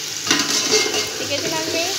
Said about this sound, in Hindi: अच्छी तरीके से इसको फ्राई करना है